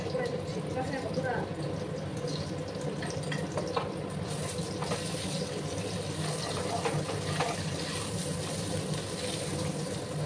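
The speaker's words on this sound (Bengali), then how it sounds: "ডিমগুলোকে আমি একটু ফ্রাই করে নিচ্ছি।" Boiled eggs fry in a pan of oil with a steady, even sizzle that runs throughout, and a voice talks over it.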